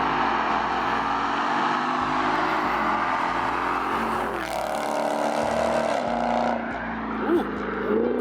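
Cars launching from a rolling start in a street race, engines roaring loudly and continuously with revs rising and shifting, a louder pass sweeping through midway, crowd voices faintly underneath.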